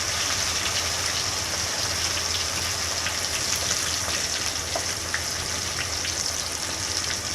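Marinated chicken frying in oil in a kadhai over medium heat, a steady dense sizzle and crackle running evenly throughout, close and fairly loud, with no talking.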